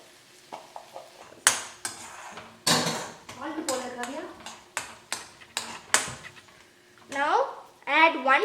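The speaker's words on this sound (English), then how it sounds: "Now we are going to mix it properly with the vegetables." A spoon scrapes and clinks against a bowl while mayonnaise stuffing is mixed with vegetables for wheat parcels. The clatter comes in close, irregular bursts, and quiet stretches fall between the strokes.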